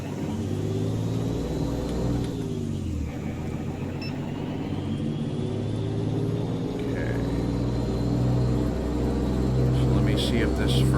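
A truck engine idles steadily in American Truck Simulator, a low continuous rumble that holds at an even, moderately loud level throughout with no clear revving, while someone talks over it.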